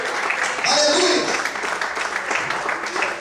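A church congregation applauding during a worship service, broad sustained clapping from many people, with a brief voice or shout rising above it early on before the clapping carries on evenly.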